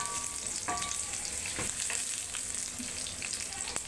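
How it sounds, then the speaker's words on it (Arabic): Onion and garlic sizzle and fry in a pan, a steady close crackle with occasional stirring scrapes, no talk over it. "هننزل بقى بالبصل اهو. بصل وثوم. بصل وثوم الاتنين."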